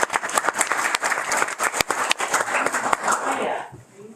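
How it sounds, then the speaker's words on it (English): An audience claps at a school board meeting, a sparse scatter of distinct handclaps that rises into general applause and then tapers off toward the end. "So let's give her a clap."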